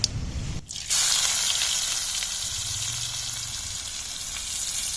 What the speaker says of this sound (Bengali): পেঁয়াজটা একদম হালকাভাবে ভেজে নেব